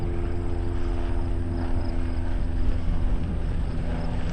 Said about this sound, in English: I hear an airplane up there. It's probably a crop duster.